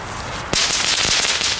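Consumer fireworks from Intertoys go off outdoors with a sharp pop, followed by a dense, steady crackle and fizz of sparks that stays loud and close to the end.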